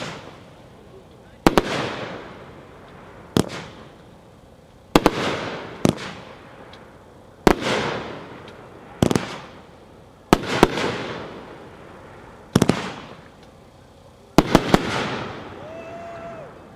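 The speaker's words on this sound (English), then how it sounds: "Freedom Rings by Gunslinger, packed 4-1, 15 shots." A Freedom Rings consumer fireworks cake by Gunslinger fires 15 shots outdoors. The launches come at roughly regular intervals as sharp loud thumps, each followed by a crackling burst and a fading tail, with a few close doubled pops.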